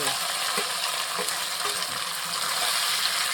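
Mutton pieces drop into hot oil in a pan and sizzle with a steady, dense hiss, close and constant, while light stirring scrapes through the frying.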